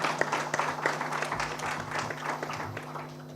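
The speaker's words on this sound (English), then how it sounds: "So can we have a big round of applause for this amazing initiative taken?" An indoor audience at a corporate gathering claps together, a moderate crowd applause with audible individual hand claps, fading slightly toward the end.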